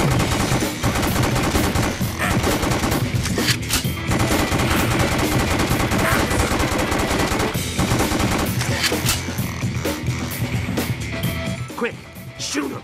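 Gunfire in The House of the Dead Overkill rattles loud and continuous, machine-gun bursts blending with crashes and game effects, while voices talk over the shooting throughout.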